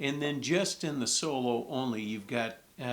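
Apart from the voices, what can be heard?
No everyday noises stand out.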